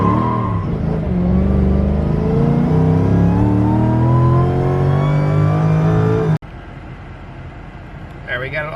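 A Mercedes E55 AMG launches hard from a dig, its engine note climbing loudly and steadily for about six seconds before cutting off abruptly into a quieter background.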